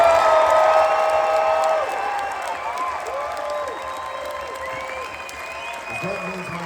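A concert crowd applauds a band's Rock and Roll Hall of Fame induction during a show at the Cedar Showroom, Foxwoods, Connecticut. The clapping is dense and sustained, with voices shouting and whooping over it, and it fades slightly toward the end.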